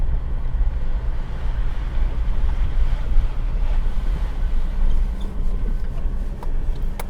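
Sea breeze rushes through the open windows of a car driving on the beach at Bribie Island, a steady low roar of wind buffeting, mixed with rumble and surf-like wash, continuous and close.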